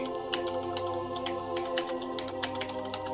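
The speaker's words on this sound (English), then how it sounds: "It's crazy loud. Yeah, that's my mechanical keyboard." Mechanical computer keyboard being typed on, a rapid run of clicky keystrokes over a steady background hum, close and clearly audible throughout.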